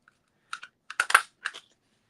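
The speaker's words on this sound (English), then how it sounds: "you can cut it with a punch." A craft punch cutting through masking paper: a few faint, close clicks and crunches in a short uneven cluster, with near silence before and after.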